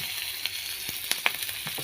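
Onion, hot chillies and garlic frying in oil, a steady close sizzle with scattered sharp pops and spits, no voices.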